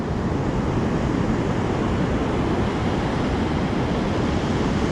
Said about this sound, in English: Look at those waves in the back there.